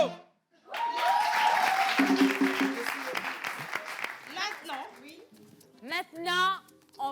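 Studio audience applause for an applause meter at a French summer entertainment show, a dense burst of clapping and cheering that fades into scattered claps while voices talk over it.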